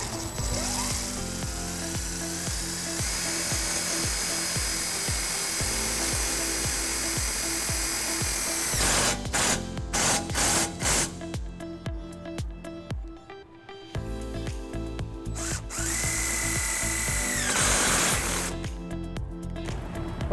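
A power drill drives self-tapping screws into a metal wiring bracket on a 2005 GMC Canyon, heard as several loud bursts of whirring with short pauses between them and no talk.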